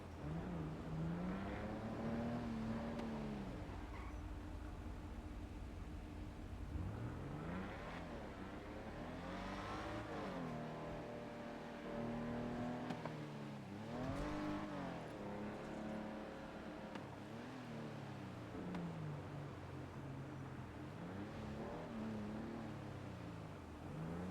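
A car engine in the video game GTA 5 revs up and down in repeated surges, a loud, steady motor drone with rising and falling pitch over a long stretch.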